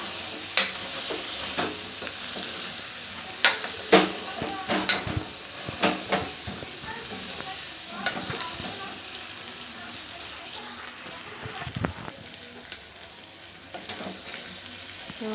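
Chilli powder and coriander powder being stirred into chicken sambar, with a spoon scraping and clinking against the pot in irregular bursts over a steady sizzling hiss.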